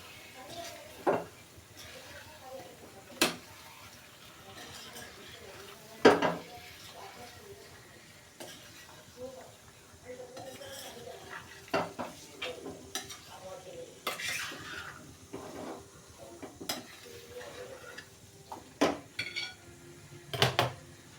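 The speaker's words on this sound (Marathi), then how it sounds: "छान मसाल्यामध्ये परतून घेऊ।" A spoon stirs pieces of rohu fish in spiced masala in a pan, giving soft scraping and clinks over a faint sizzle, with a few louder knocks against the pan rim. The sounds are quiet and close, with someone speaking at times.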